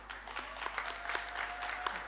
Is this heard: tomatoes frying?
no